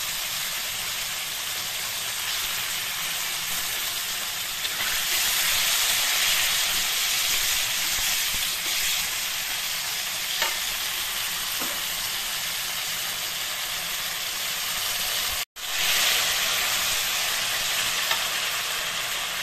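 Spice paste of ground tomato, chili and ginger frying in a pan for a fish curry, a steady loud sizzle and hiss that runs throughout, with a brief drop near the end.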